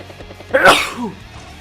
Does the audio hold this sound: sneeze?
yes